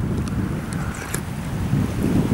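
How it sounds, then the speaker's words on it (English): Strong wind buffets the microphone beside a river, a loud, continuous rumbling roar that surges toward the end, with no speech over it. "Oh, big wind."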